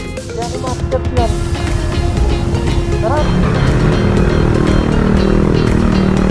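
A Yamaha Fazzio scooter on a test drive gives a steady engine hum and wind rush that builds and holds. A rider talks over it early on.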